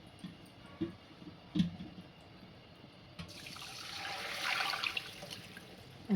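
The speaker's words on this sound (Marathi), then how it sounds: "हे पाणी याच्यामध्ये घालणार आहे।" Hot water is poured into a pan of wheat lapsi, a soft close sizzling hiss building over a few seconds after light clicks and taps.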